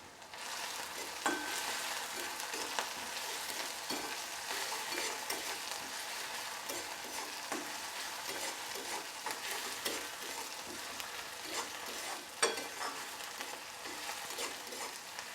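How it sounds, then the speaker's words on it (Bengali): Onion and slit green chillies fry in a pan with a steady, dense sizzle and crackle, stirred now and then, no voices over it. "পেঁয়াজটা আমার এখানে ভাজা হয়ে গেছে"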